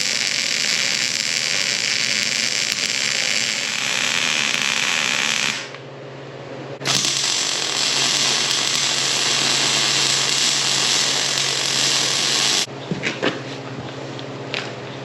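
Loud, continuous arc-welding crackle and hiss on the tops of a steel cross brace, running in two long unbroken beads separated by a short pause, then a few brief bursts at the end.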